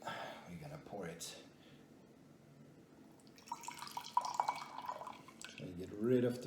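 Hot water is poured out of small teaware used to preheat cups for Gyokuro, giving a brief trickling splash followed by drips. A person talks before and after the pour.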